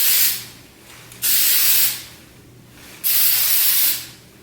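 Three long hissing bursts from an aerosol hairspray can sprayed onto hair, each lasting under a second with short gaps between them, close and loud.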